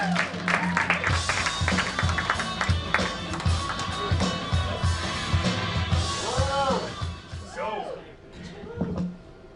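Comedy club crowd at a stand-up show in San Clemente clapping and cheering as a comedian takes the stage, a dense wash of applause with someone talking over it.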